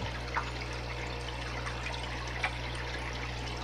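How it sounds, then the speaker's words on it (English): Water splashing and trickling in a home aquarium at fish-feeding time, a steady wet wash with a couple of brief louder splashes over a constant low pump hum. "I'm splashing."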